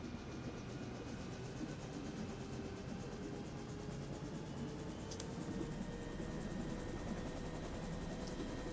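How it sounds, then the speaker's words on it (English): Helicopter turbine engine in a virtual cockpit simulator, a steady broadband whine and rumble that holds constant with a faint rising tone as the throttle opens and RPM increases; no talking. "and you'll hear the RPMs increase."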